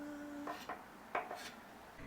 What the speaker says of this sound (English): I'm cutting up my bacon in slightly larger pieces because I'm going for more of a rustic jam